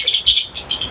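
A racing pigeon, a champion bird, gives several quick, bright chirping calls in close succession, close and fairly loud, with no talking.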